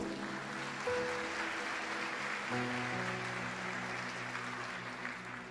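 Church congregation applauding during a sermon, a sustained broad patter of many hands clapping at moderate distance, mixed with lingering organ or keyboard tones underneath.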